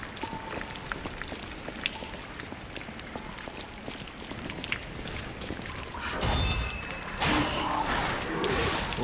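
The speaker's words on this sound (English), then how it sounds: "Rainy night." Steady rain falls through a night scene at a train station in the video game Lies of P, a continuous patter that swells louder near the end with brief sharper splashes.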